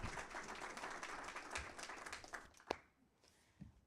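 Audience at a school board meeting applauding in honour of a longtime mentor, a dense, fairly faint wash of clapping from a crowd that fades out near the end, leaving a quiet room.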